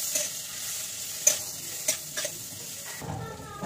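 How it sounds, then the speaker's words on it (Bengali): Paneer frying lightly in a pan, a soft continuous sizzle broken by a few sharp clinks and scrapes of a utensil lifting the pieces out, heard up close. "এই দেখো হালকা করে ফ্রাই করে পনিরগুলোকে তুলে নিচ্ছি"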